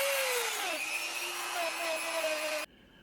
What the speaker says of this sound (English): little Dremel type tool.